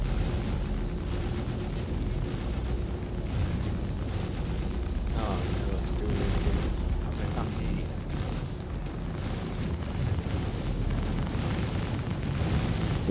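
Ship weapons firing and explosions in the space game Star Citizen during multicrew combat, a dense continuous roar of booms and blasts with rumbling bursts, loud throughout, with voices faintly underneath.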